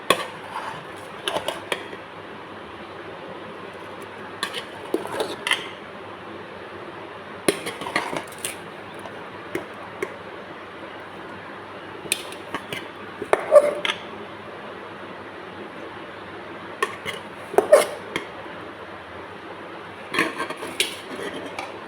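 Lemon rice scraped and stirred in a pan with a metal spoon, steady clinks and scrapes recurring every couple of seconds over a low background hum, fairly close and moderate in volume.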